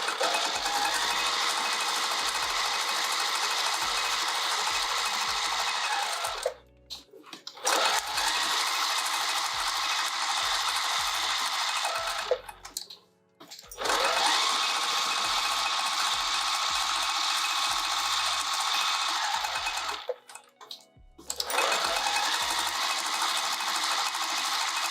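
A sewing machine quilts a fabric pouch in four long, rapid clattering runs, each stopping briefly before the stitching starts again, close and alone.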